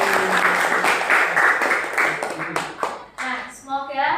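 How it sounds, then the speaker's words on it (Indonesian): Loud, close clapping from a small group celebrating at the end of a lesson, a dense flurry of claps with a voice running over it before it fades out. "Aplaus untuk kita semua"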